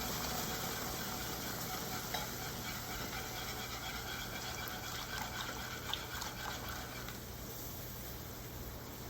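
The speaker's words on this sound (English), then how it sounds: "I'm just gonna pour it in here slowly, and at the same time, I'm gonna mix everything up." Bouillon broth made with beef bouillon poured slowly into a pan of gravy for smothered pork cube steak while it is stirred, giving a steady, close liquid pouring and sizzling wash with faint scraping, with no talk.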